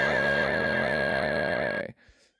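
A person imitating a horse neigh during a podcast, one sustained loud whinny-like vocal lasting nearly two seconds, then cutting off abruptly into a brief quiet tail.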